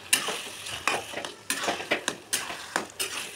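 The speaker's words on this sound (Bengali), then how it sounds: "এবার আমি এটাকে ভালো করে নাড়াবো, শাকটাকে ভালো করে নাড়িয়ে দেবো" Taro leaves cooking in a pan are stirred with a utensil, giving a series of scraping clinks against the metal over a soft background sizzle, at a fairly regular rhythm.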